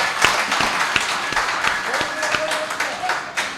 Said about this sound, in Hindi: कविता खत्म होगी, तालियां बजा दो सारे